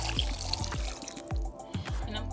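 Water poured from a container into a slow cooker of pinto beans, with close splashing and gurgling in several uneven glugs over a couple of seconds.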